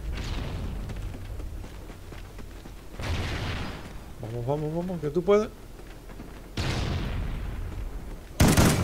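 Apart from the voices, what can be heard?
gunfire in video game Call of Duty Ghosts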